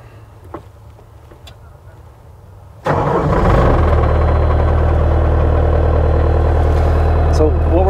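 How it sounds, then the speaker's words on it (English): A Bobcat T300 skid steer diesel engine cranks and fires at once near the three-second mark, then holds a loud, steady, close idle rumble after a quiet stretch with faint background noise. "So we'll get the machine started."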